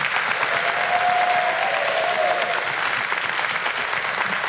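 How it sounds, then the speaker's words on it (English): Audience applause for graduating students at a middle school 8th grade promotion ceremony, loud, dense and sustained clapping from a large crowd with no voices over it. "So let's give them a round of applause."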